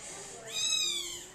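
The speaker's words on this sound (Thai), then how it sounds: "โอ้เสียงแมวร้องดังกว่าร้องลูก" A young cat lets out a single rising-and-falling meow at moderate distance, fairly soft over a quiet indoor background.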